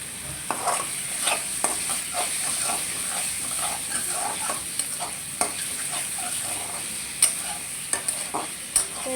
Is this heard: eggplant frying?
yes